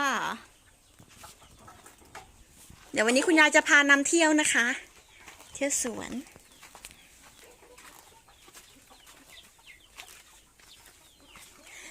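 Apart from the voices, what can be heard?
chickens clucking on a farm, broilers and laying hens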